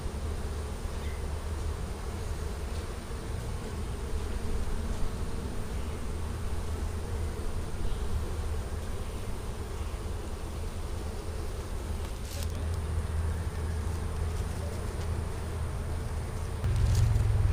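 A swarm of honey bees buzzes in a dense, continuous drone that holds steady and close for the whole stretch, with no talk.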